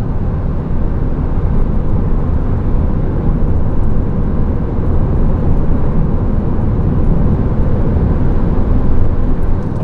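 Steady low rumble of road and engine noise inside the cabin of a 2018 Nissan X-Trail cruising on a highway, constant and fairly loud with no talking.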